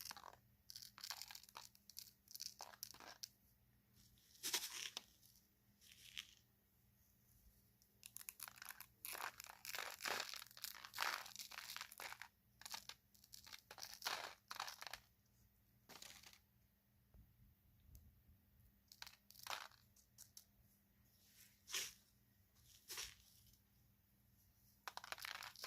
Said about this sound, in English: And then I take my crushed glass